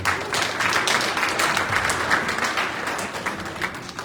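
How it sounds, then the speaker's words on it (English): Steady applause from an audience at a foundation launch event, dense clapping that holds for about four seconds at fairly even loudness with no talking over it. "Can we also give her a round of applause?"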